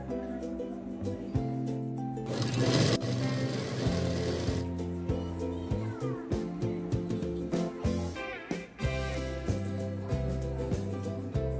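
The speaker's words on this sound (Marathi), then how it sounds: "आता ब्लाऊजच्या सुलट साईडने म्हणजेच बाहेरच्या साईडने आपल्याला टिक मारून घ्यायची आहे" A sewing machine stitches a blouse in fairly quiet, close, rhythmic running bursts with brief pauses and mechanical clatter, with music playing underneath and no talking.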